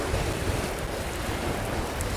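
Strong wind gusting across an open coastline during a fishing trip, roaring steadily with crashing surf and microphone buffeting, loud and continuous with no voices.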